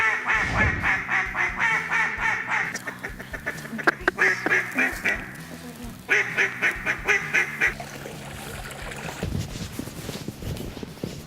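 Ducks quack repeatedly during a duck hunt in the Ozark Mountains, in loud rhythmic bursts of near calls that keep going throughout, with faint talking mixed in beneath.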